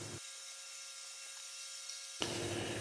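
A power sander works a turned cherry wood bowl with a steady, close whirring hiss and a faint hum. The tone shifts briefly near the start and again near the end.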